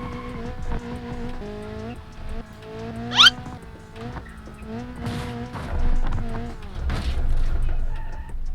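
A heavily damaged car in the BeamNG Drive driving game jolts over a bump course with a torn-off front bumper and punctured radiator, its engine droning steadily under rattles, a sharp tire squeal midway and clattering thumps toward the end.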